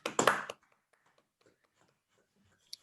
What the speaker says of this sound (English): Big clap to everyone.